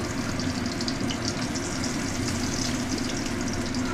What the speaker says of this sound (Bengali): তেল গরম হয়ে গেছে, আমি মিনি মাছগুলোকে ভেজে নিচ্ছি।